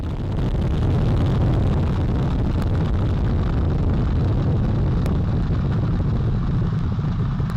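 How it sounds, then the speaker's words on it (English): Artemis 1 launch of the SLS rocket, its four RS-25 core-stage engines and two solid rocket boosters at full thrust: a steady, loud, deep rumbling roar with wind-buffeted crackle that holds without a break. "Boosters in ignition. And liftoff of Artemis 1."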